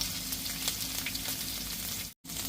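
Onions and green chillies sauté in a pan with a steady, close frying sizzle and faint stirring scrapes, cut by a brief silent gap near the end.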